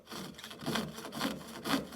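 A handsaw blade cuts through a cellulose acetate sheet in steady back-and-forth strokes, four rasping pulls at an even rhythm, close and fairly quiet.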